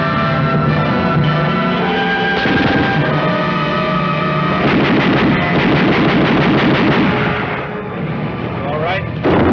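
Mortar fire in a 1955 military battle scene, dense rumbling blasts and gunfire-like cracks layered under a constant roar, with voices talking over the din.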